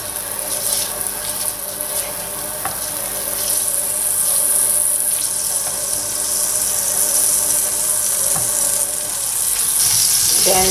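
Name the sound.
butter melting and sizzling in a pan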